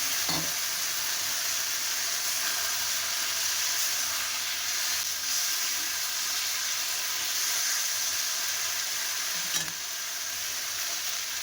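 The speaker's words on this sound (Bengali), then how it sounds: "এবারে মশলাটাকে কষিয়ে নেব। মশলাটা কষানো হয়ে গেছে, এবারে একটু আলুটা দিয়ে দিলাম।" Spice paste and potato pieces fry in a pan with a loud, continuous sizzle and hiss, occasional stirring scrapes close by, and no talking.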